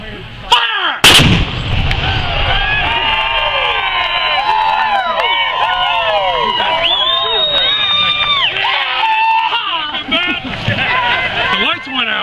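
A howitzer section fires, with a big boom near the start that sets off a long crowd reaction of cheering and shouting over a steady noisy background.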